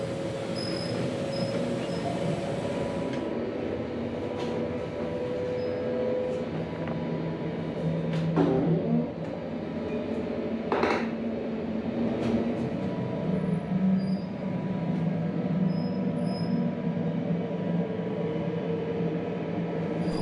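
Toilet on Australia's Tilt Train flushing on board, a steady rushing whoosh over the rumble of the moving carriage, with a couple of brief sharp bursts partway through.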